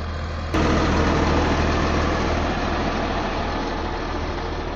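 A motor grader's diesel engine runs during rural road maintenance, a loud, steady low rumble that starts abruptly and holds constant with no talk.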